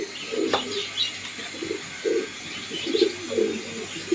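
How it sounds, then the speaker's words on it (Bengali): Pigeons coo in a loft, a run of soft, low, throaty calls repeating at a steady pace, close by, with faint chirps and room noise behind. "এই হচ্ছে কবুতর"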